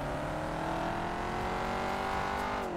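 A Jaguar sports car drives past in the GTA 5 video game with a loud, sustained engine tone whose pitch shifts slightly as it goes by, and no speech.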